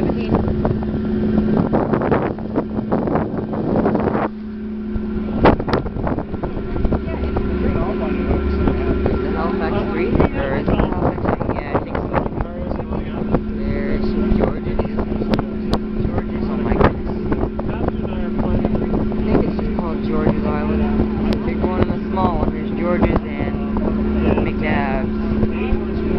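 Halifax Transit ferry crossing at dusk, a steady engine drone with wind buffeting the microphone throughout, continuous and fairly loud, with occasional voices talking over it.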